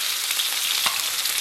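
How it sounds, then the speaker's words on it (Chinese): Chopped scallions sizzle in warm oil in a wok, a steady close bright crackling hiss with a faint stir partway through, no voices. "咱给锅里边稍微来点油，油温微微热啊，咱们把这个葱花给它下里边"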